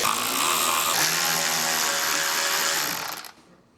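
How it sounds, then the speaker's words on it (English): A power driver runs T25 screws into a car's side skirt on a GLI, giving a loud, continuous whirring grind for about three seconds that cuts off abruptly. "we're gonna go ahead and use those to screw this down and hold it in place"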